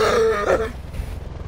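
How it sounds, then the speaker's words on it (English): A short burst of rough coughing or throat clearing up close, followed by quieter low rumbling. "My cough is really bad"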